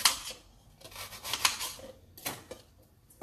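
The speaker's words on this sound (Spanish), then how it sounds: "Voy a cortar esta manzanita verde." A knife slices through a crisp green apple in a home kitchen, giving sharp, crunchy cuts in an irregular rhythm, close and fairly loud with no talking.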